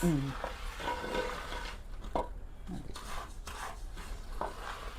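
Avalose, a Kerala sweet of rice flour, being dry-roasted and stirred in a pan, a soft scraping and rustling stir under quiet talk, with faint sizzle and occasional clinks of the spatula.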